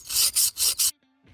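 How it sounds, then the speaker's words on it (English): Knife blade drawn across a long, very rough bushcraft sharpening stone: four loud, close gritty rasping strokes in a steady rhythm, then a brief pause before a fainter fifth stroke begins. "I can't support a sharpening stone this long on my knee properly, but it still works"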